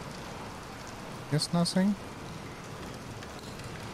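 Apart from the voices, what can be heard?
rain falling in the video game Bendy and the Dark Revival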